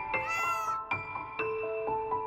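A Persian cat meows several times, close and clear: a long drawn-out call followed by shorter, tonal mews in quick succession over quiet background.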